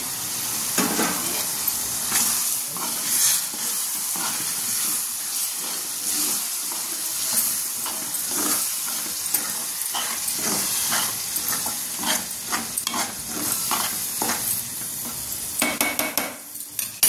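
Ginger-garlic paste fries in a pan for a prawn curry, giving a continuous close sizzle broken by frequent scraping and clinking stirring strokes, with no talk over it.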